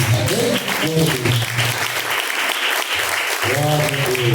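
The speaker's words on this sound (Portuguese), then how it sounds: "Vamos receber essa oração das palmas bem alegre para Jesus." A church congregation claps joyfully during evening worship, a dense continuous wash of hand clapping mixed with singing or voices and organ-like tones, loud and close throughout.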